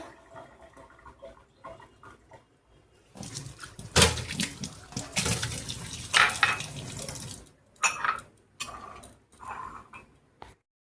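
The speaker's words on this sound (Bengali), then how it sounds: "ছাঁকনিটা ধুয়ে দিই" Tap water gushes into a kitchen sink as a tea strainer is rinsed, a loud splashing burst of about four seconds with light metallic clinks of utensils before and after.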